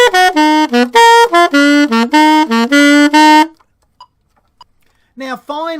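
A saxophone plays a quick run of short, detached notes in a descending chromatic arpeggio riff exercise at 100 beats a minute, loud and close. A pause follows, then a few more sustained, bending tones.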